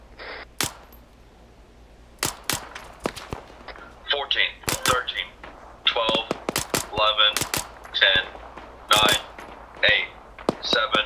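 Gunshots crack out in a live-fire exercise, sharp close reports scattered irregularly across the stretch, some singly and some in quick pairs, with a person speaking between them.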